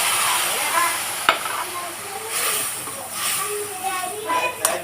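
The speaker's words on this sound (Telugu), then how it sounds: "కొంచెం వాటర్ వేస్తున్నానండి." Water poured into a hot pan of spices, peanuts and curry leaves, hissing and sizzling steadily close by, with stirring and a sharp clack near the start, faint voices in the background.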